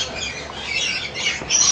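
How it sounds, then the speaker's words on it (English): A pet parrot lets out harsh, raspy squawks close by, a continuous scratchy burst that swells near the end, with no one talking. "Watch what the bird does."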